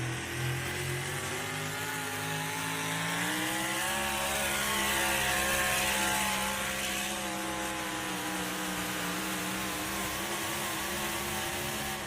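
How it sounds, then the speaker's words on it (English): A drag race car makes its run, engine at full throttle in one long, loud, continuous roar whose pitch climbs steadily, with no speech over it. "Good run for Murray Thornton, hitting the rev limiter right there at the end."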